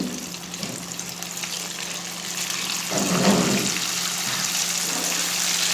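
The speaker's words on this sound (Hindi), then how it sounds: "तेल हमारा गर्म हो गया है, हम इसको देखेंगे, डाल रहे हैं फ्राई करने के लिए।" Boneless chicken strips going into hot oil, a steady close sizzle that swells louder midway as the pieces are added and then holds as continuous frying.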